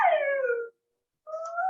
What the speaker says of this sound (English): Clearly, your husky is trying to answer.